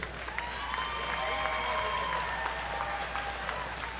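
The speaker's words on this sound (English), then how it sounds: "Ladies and gentlemen, a big round of applause for both of these fighters." Crowd applauding both fighters after a three-round bout at a fighting championship event, steady clapping filling the whole stretch at moderate level, with a little cheering mixed in.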